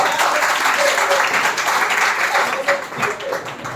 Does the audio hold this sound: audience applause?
yes